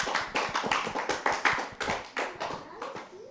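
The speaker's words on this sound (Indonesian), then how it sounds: "Kita kasih tepuk tangan untuk Siti Aisyah." Audience clapping for a young poetry reciter, a short burst of brisk, fairly close handclaps in an uneven quick rhythm that thins out toward the end.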